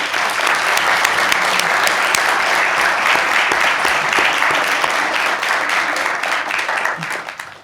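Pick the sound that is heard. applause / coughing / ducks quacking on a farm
applause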